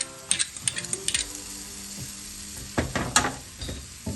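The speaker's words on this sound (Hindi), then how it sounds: "अब इसमें 1 टेबल स्पून अदरक लहसुन का पेस्ट डाल देंगे।" Ginger-garlic paste hits golden fried onions in a pan, giving a soft sizzle broken by quick clinks and scrapes of a stirring utensil, with no speech.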